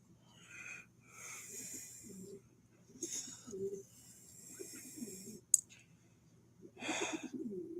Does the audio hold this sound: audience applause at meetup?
no